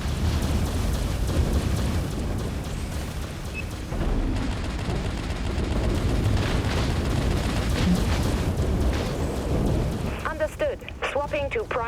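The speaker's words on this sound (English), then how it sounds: "Broadside, open fire." Broadside guns blasting in a space battle video game, a dense, continuous barrage of deep rumbling booms, with warbling electronic effects rising near the end.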